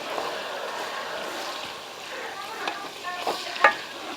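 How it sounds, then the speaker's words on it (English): Baked beans cook in bacon grease in a pan, giving a soft, continuous sizzle with occasional pops and a sharp clink near the end. "That's the bacon grease that y'all see. And I'm going to let this cook into that for a little bit first, before I drain it."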